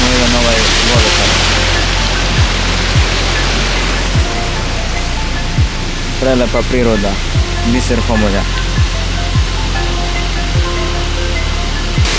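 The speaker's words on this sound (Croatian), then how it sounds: "imamo jedan ovaj vodopad." Steady broadband rush of a waterfall at an old watermill at Krupajsko Vrelo, continuous and close, with a person talking over it throughout.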